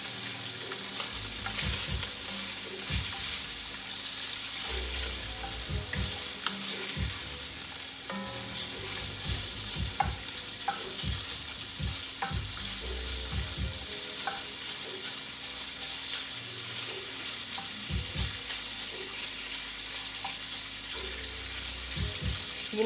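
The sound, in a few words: Hillshire Farm sausage frying in a pan, stirred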